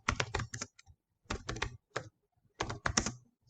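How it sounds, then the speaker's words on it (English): Fingers type on a computer keyboard in three quick bursts of close, crisp key clicks separated by short pauses, with no talk. "We'll just type it here"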